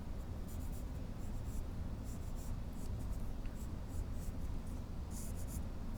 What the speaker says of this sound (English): Okay, drawing the circle, so I have somewhere for everything to go.